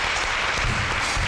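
Studio audience applauding to welcome a celebrity guest on a Uyo talk show, a dense, loud, continuous wash of clapping with no gaps.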